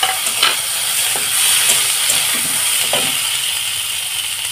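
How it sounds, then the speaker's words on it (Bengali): Spices with curry leaves roast lightly in a hot pan, giving a loud, constant close crackling sizzle with a few soft scrapes of stirring throughout. "এখানে যে আমি উপকরণগুলো নিয়েছি সব আমি একটু হালকা রোস্ট করে নেব"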